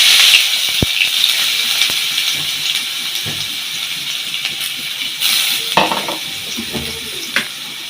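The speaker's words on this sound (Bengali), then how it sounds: "তেল দিয়ে দিলাম পরিমাণ মতো, পেঁয়াজ এবং রসুন একসাথে দিয়ে দিলাম" Onion and garlic sizzle in hot oil in a pan, a bright continuous frying hiss with occasional stirring scrapes and clinks of utensil against pot, close and loud with no talk.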